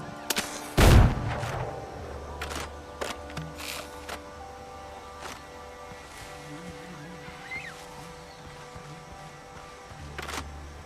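Gunfire in the pirate sailing video game Windrose, one heavy booming shot near the start followed by scattered lighter cracks over a low ambient rumble.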